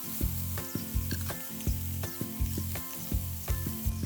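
Mackerel fillets fry skin side down in a pan, giving a steady close sizzle with rhythmic bubbling crackles and light pops throughout, with no talk.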